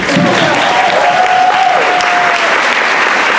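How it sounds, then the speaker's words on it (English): A convention audience breaks into loud, sustained applause, dense clapping close by with a brief whistle or cheer rising above it, continuing without pause. "round of applause"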